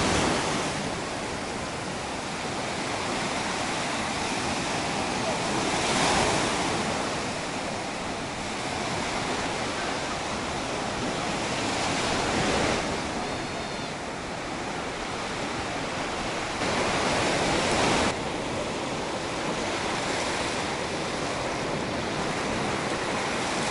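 Sea waves on Incekum beach in Alanya, Turkey, roll in with a loud, steady surf wash, swelling into periodic breaking crests every few seconds, with no voices heard.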